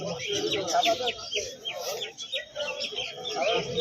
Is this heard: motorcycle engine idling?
no